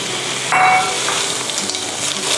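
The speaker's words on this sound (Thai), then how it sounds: "นี่ก็คลุกนะคะ ให้ทั่วเส้นแบบนี้" Spaghetti tossed in a pan with clams and roasted chili paste, giving a steady close sizzle with soft stirring scrapes and a brief louder burst near the start, no talking.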